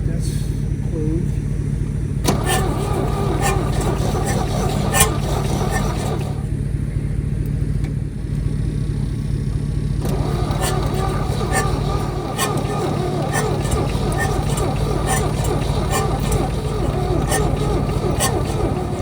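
A 1969 Chevrolet C30 truck recovered from an oil field, its engine cranking over and over with a steady rumbling churn, loud and close, while someone talks over it.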